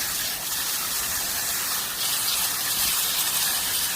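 Water sprays steadily and forcefully over potted succulent plants, a continuous close hissing gush that runs for the whole stretch without pause or talk.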